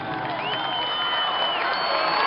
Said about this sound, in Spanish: dos minutos de aplauso a uno de los cantantes más queridos que se nos adelantó